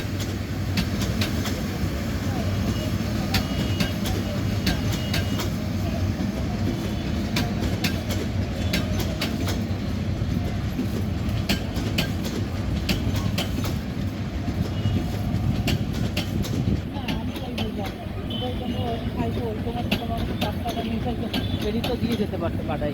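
A Mohanganj Express passenger train of Bangladesh Railway rolls steadily past with continuous rumbling and clattering wheels, loud and close throughout, while people talk nearby.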